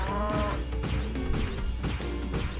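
Cow mooing in the Spyro 3 video game, a few drawn-out game moos mixed with sharp whacking impact sounds over a steady background, loud and close.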